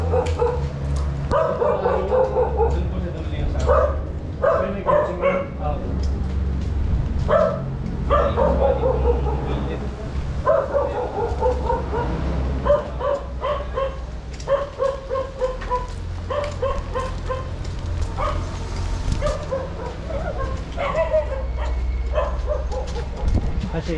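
Several dogs bark and yip repeatedly, close and loud, in irregular bursts over a steady low hum, with some whimpering and people talking in between.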